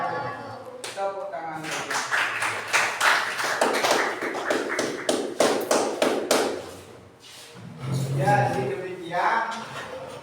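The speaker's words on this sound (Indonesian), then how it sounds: "Tepuk tangan." A school class claps for a group that has just finished presenting in an Islamic studies lesson. There is a burst of many hands for several seconds, with voices around it before and after.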